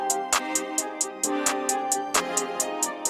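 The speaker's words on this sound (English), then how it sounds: "So after that, just grab a simple hi-hat here," A simple hi-hat pattern programmed in FL Studio fills two steps, ticking in crisp, evenly spaced hits over a sustained bass and synth bed that pulses with occasional louder kick-like accents.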